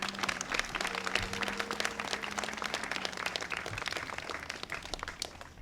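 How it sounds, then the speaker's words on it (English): An audience bursts into sustained applause at a press conference unveiling plans for public soccer fields. Dense, steady clapping fills the whole stretch at a moderate level, with no break. "So big round of applause."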